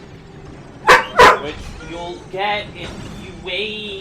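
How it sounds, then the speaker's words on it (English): Daisy the dog gives two sharp, loud barks up close, followed by a few softer yips and whimpers, with a person speaking over the quieter part. "Yeah, that's my dog Daisy."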